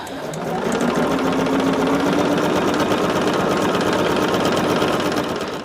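A sewing machine running continuously while chain stitching quilt block pieces, a loud, close, fast steady mechanical whir with rapid needle chatter, starting and stopping cleanly.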